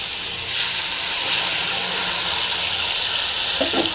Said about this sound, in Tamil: எண்ணெய் ஊற்றியாச்சுங்க மாங்காய் தொக்கை போட்டுடலாம்